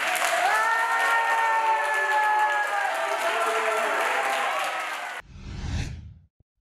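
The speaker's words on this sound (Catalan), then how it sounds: "Un fort aplaudiment!" Audience applause at a quiz-style show event, a loud sustained clapping wash that stops abruptly near the end, followed by a brief breathy whoosh.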